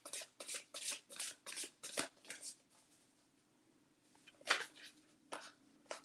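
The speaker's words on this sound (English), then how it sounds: "these cards are so hard to shuffle" A stiff deck of reading cards being shuffled by hand, with a quick run of close, crisp riffling bursts, a pause, then a few more scattered shuffles.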